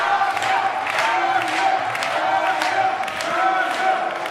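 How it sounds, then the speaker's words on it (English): Arena crowd at an independent wrestling show roars and chants behind a wrestler's comeback, a continuous rumbling cheer rising and falling in waves, with a commentator's voice over it. "Listen to this crowd behind the Mind Eraser"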